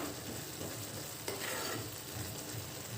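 Mint, coriander and curry leaf pickle being sautéed in oil in a pan, a steady soft sizzle and bubbling hiss throughout, close and continuous, with one faint scrape of a utensil partway through and no talk.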